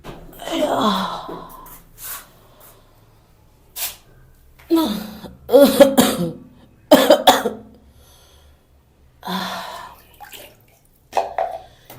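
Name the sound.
coughing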